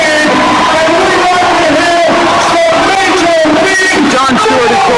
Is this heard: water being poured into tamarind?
no